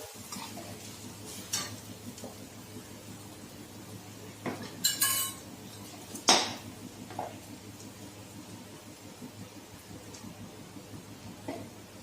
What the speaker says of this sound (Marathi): बघा, आपला कांदा आता छान परतलेला आहे। आता आपण त्यामध्ये टाकूया वाटून घेतलेलं मिश्रण